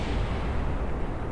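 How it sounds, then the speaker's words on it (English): Rocket booster crashing into the ground and exploding in Kerbal Space Program: a dense, sustained roar of rumbling blast noise across the whole stretch, steady and loud with no voices over it. "that explosion. Because it's just the other rocket booster hitting the ground."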